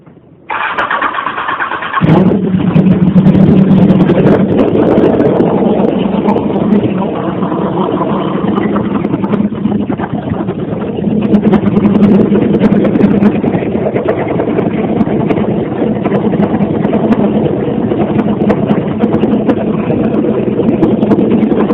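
A 2001 Honda CBR929RR motorcycle engine cranks and catches after a short starter whir, then settles into a steady, loud warm-up idle that runs on without pause.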